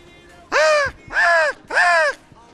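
A person imitates a crow, giving three loud, harsh caws in a steady rhythm, close up.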